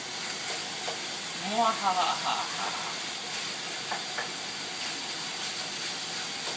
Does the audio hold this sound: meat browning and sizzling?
yes